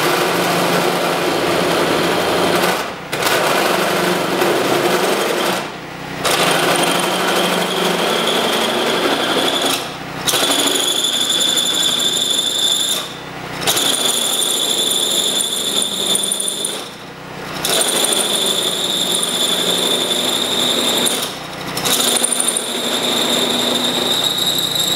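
A power drill runs loudly and steadily, its whine stopping briefly every few seconds before starting up again.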